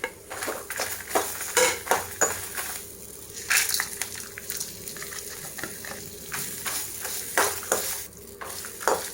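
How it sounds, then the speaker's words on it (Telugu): Flaxseed and spices crackle and sizzle in a dry pan while a spoon scrapes and stirs in repeated strokes, close up and without talk. "ఇప్పుడు ఇవన్నీ స్పైసెస్ మొత్తం కలిపి మళ్ళీ ఒకసారి ఫ్రై చేద్దాం"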